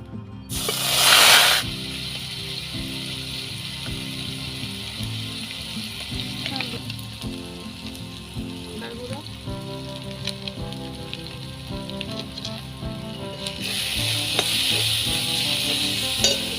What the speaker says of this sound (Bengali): এবার ক্যাপসিকামটা একটু আমি ভেজে নেব